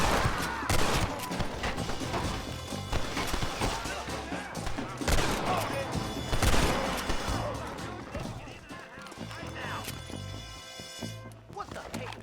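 Gunfight in the Red Dead Redemption video game, with repeated bursts of gunshots and crashing impacts spread over several seconds, fairly loud, mixed with game noise and occasional voices.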